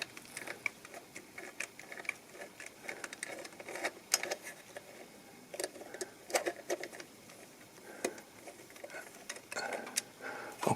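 Bolts come off the solenoid valve block of a faulty AL4/DP0 automatic gearbox in limp mode, heard as a rapid, irregular run of small metallic ticks and clicks from a ratchet or wrench, close and fairly quiet.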